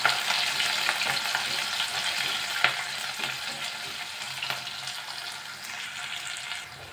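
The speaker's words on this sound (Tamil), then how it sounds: "வெங்காயம் நல்லா வதங்கி வரட்டும்" Sliced onions fry in a pan with curry leaves for a dry fish curry, giving a continuous close sizzle with scattered clicks and scrapes of stirring throughout.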